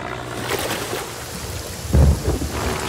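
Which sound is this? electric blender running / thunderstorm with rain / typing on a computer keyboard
thunderstorm with rain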